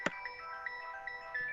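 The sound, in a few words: phone ringtone for an incoming call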